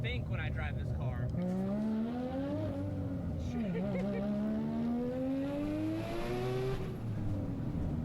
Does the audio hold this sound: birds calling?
no